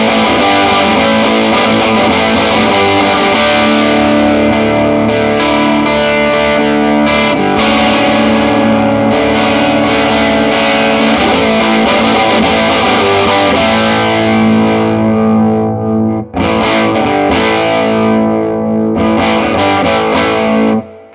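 A Formula No. 55 amp cranked up, giving a loud, thick distorted electric guitar tone with sustained strummed chords and ringing notes, played continuously with a brief break near the end.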